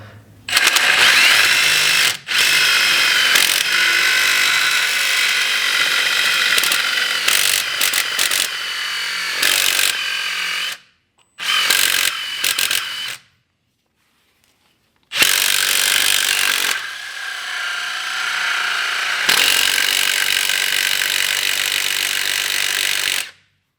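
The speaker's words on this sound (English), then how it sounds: "So I got this saw bit on the end of a drill, which works really well." A drill fitted with a saw bit grinds through wood in long, loud bursts, stopping briefly twice with short silences between cuts.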